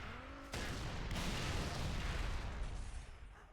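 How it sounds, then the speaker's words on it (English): Explosions in the Halo: The Master Chief Collection video game start with a sudden loud blast and roll into a dense, sustained roaring rumble, with a second burst hitting soon after. "I don't know what all those explosions were."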